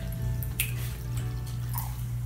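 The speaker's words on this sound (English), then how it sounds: "Next is our cold water. So just pour it in with your glue." Cold water is poured into glue to make slime, giving close, light drips and small splashes over a steady low hum, with no voices.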